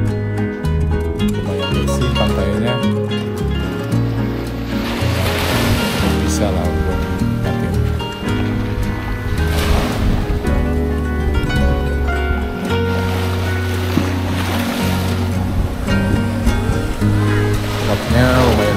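Rough sea at Batakan Baru beach in Tanah Laut, South Kalimantan, rolls in as loud, surging surf with heavy wind buffeting the microphone and a voice speaking over it.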